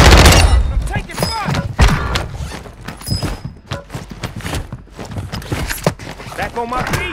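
Rapid bursts of automatic gunfire and sharp shots in the shooter game Call of Duty: Modern Warfare II, loud and close, mixed with battle noise and shouted game voice lines.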